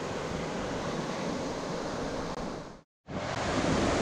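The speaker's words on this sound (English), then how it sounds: "Gentle sound of running water." Running river water on a rocky riverside path near Beddgelert, a steady broad rush close to the microphone, with a brief dropout near the end before the flow resumes.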